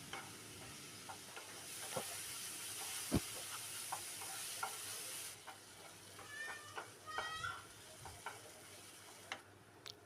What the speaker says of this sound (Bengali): নেড়ে চেড়ে মশলাটা একটু কষিয়ে নেব।